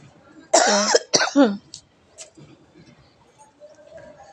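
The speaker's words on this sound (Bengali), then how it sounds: "কি কাশি হচ্ছে বন্ধুরা" A person coughs on a rooftop while hanging out laundry in the morning: two or three loud, close, harsh bursts in quick succession, followed by a few faint rasps over quiet outdoor background.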